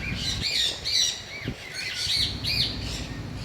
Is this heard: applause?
no